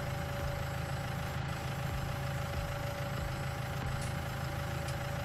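A tractor engine idles in a Swiss-set farming video game, a steady low rumble holding level throughout with no speech over it.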